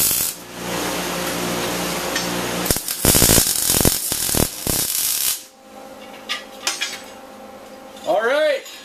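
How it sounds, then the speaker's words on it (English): Metal brackets for an LED log light being welded in a workshop: a loud harsh crackle for a few seconds, then several short bursts and clanks of metal handling, ending in quieter rattles. "tack it in place. Then weld them up."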